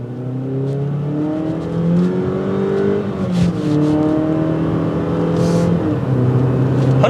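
A 2022 Jeep Compass Trailhawk accelerates from a stop, its engine note climbing steadily and loud from inside the cabin, with road and wind noise rising underneath.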